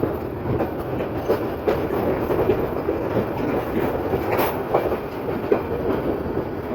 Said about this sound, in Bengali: ট্রেনটি হাওড়া রেল স্টেশনে প্রবেশ করছে।